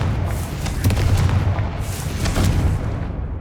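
Confringo fire-blast spell in the Hogwarts Legacy video game, fought against spider sacks, landing as two loud booming blasts about a second apart, each with a crackling rumble that rolls away.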